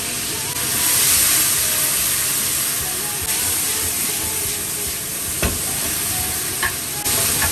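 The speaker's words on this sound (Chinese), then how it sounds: "干辣椒和大蒜炒出味儿" Dried chili and garlic stir-frying in a hot wok, a continuous loud sizzle with occasional sharp clinks of the spatula against the pan, no talking.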